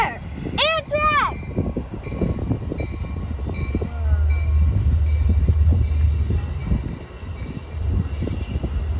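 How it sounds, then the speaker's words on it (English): An Amtrak passenger train rolls by far off near Martinez Regional Shoreline, its low rumble and clatter swelling in the middle while people talk nearby and a few high whistling calls sound early on. "There! Amtrak!"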